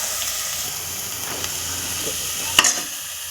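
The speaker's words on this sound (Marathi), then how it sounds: "तेल सुटेपर्यंत मसाला पारतवायचा" Masala sizzling in hot oil in a pan for masoor dal amti, a steady soft crackling fry with faint stirring scrapes and a sharp clink near the end, close and moderately quiet.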